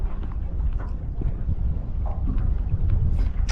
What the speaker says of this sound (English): But that's the first sign of any real wind we've had today